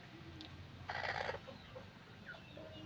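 Desi hens cluck softly in their egg-laying area, with a short burst of louder clucking near the middle and a few faint calls scattered through a quiet background.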